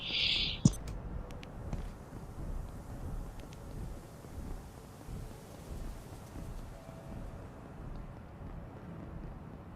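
A thunderstorm in the game Abiotic Factor. Steady wind and rain keep up a low, continuous rumble, and one sharp crack comes early on. The storm is moderately loud and sounds like it surrounds the listener.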